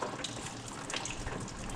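Water gushing out in a steady broadband rush, almost pure water with very little oil, continuous and close for the whole short stretch with no talk.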